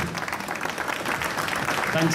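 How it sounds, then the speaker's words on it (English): Applause in a hall at a Norton Motorcycles press conference at the EICMA show, a steady, moderately loud wash of clapping with voices audible underneath. "give us a hand, make some noise, applause for Mr. Stuart Garner"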